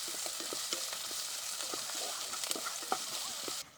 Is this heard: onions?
yes